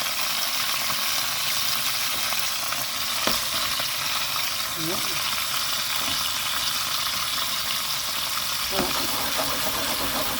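Beef and onions frying in a pan, a steady broadband sizzle running throughout with a few faint clicks and scrapes of stirring, fairly close and even in loudness, no talk.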